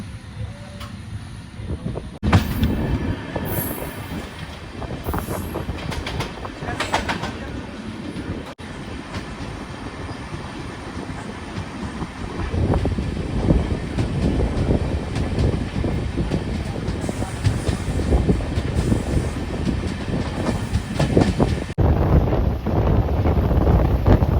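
The Secunderabad to Goa weekly express pulls away from Shadnagar station, a steady low rumble of wheels and carriages building in strength, heard from on board with heavy wind buffeting the microphone.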